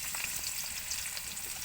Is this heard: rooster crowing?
no